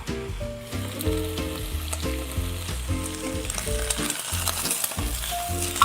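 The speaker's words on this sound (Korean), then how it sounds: "아 이거 뚜껑 열기 되게 무섭다 기름 얼마나 튈까" Oil sizzles loudly and steadily around pieces of sweet and sour pork frying in a covered pot, a dense close crackle with a low rhythmic hum beneath it.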